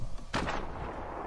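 A single sharp, booming gunshot in the video game Fortnite, with a short echoing tail over background game noise.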